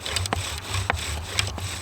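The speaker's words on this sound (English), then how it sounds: "We're going to start by pre-drilling into the hearth." A wooden friction fire drill bores a starter hole into a wooden hearth board, making dry, scratchy wood-on-wood rubbing in quick back-and-forth strokes. It is close and steady, with no voices.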